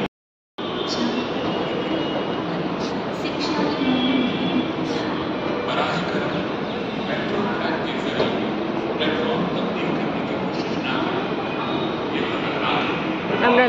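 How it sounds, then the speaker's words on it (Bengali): A metro train pulling into a station in Hyderabad, a sustained broad rumble and hiss that holds steady after an abrupt start, with voices talking throughout. "এখানে আমরা লাইন দিচ্ছি, ওয়েট করছি মেট্রোর জন্য। আমাদের ট্রেন এসে গেছে।"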